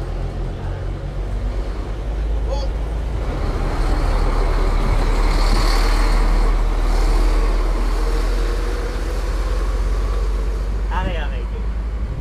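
A truck rumbles by on a road with a heavy low engine drone that swells and fades over several seconds, while someone talks nearby over it.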